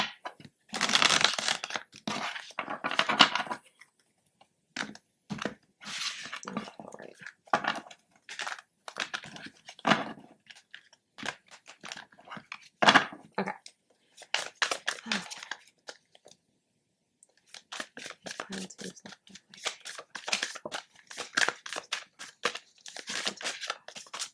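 Tarot card shuffling, a run of quick papery riffles and crisp rustles in bursts with short pauses between, close and fairly loud, no talking.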